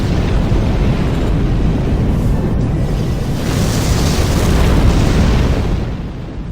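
Heavy mine explosions rumble through a combat zone in the video game Armored Core: for Answer, a continuous loud, deep booming roar that swells near the middle and end.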